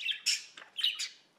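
A pet parakeet chirping close by: several sharp, bright tweets in quick succession with short gaps, clear against a quiet background.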